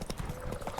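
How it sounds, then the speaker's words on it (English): Horse hooves clip-clop quickly in a video game, a brief run of rhythmic thuds that is moderately loud and close. "Clip Clop, clip cloobity clop, clip clop, cloobity clop."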